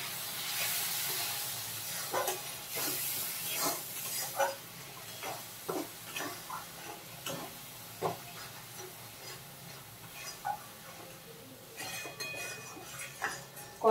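Cumin and Kashmiri chili powder fry in oil while being stirred, a soft continuous sizzle broken by repeated scraping and tapping of a spoon against the pan, fairly quiet and close, with no talking.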